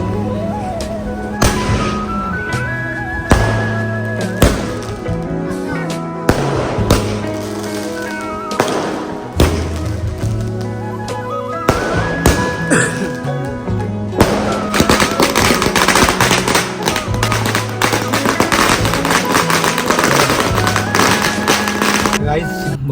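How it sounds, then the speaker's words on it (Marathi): Rapid firecrackers crack and pop in dense bursts for a long stretch, loud and close at a building gate, with music and voices underneath. "त्याच्या एंट्रीसाठी आपण फटाके लावले"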